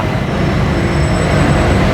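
Inside a BTS Skytrain in Thailand, the train runs with a loud, steady rumble and roar, with a faint high whine holding constant throughout.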